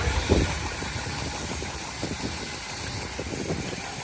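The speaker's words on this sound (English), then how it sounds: "Now, an example of a Showman's engine called Countess, a Garrett engine." A Garrett steam Showman's engine runs at a steam rally, giving a soft, steady rhythmic chuffing and mechanical knocking at a moderate distance.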